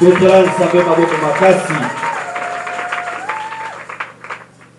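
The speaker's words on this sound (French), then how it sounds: "Acclamons très fort pour le Seigneur." A church congregation breaks into loud applause for the Lord, a dense wash of clapping that starts strong under a voice and slowly thins out, with a steady tone sounding partway through.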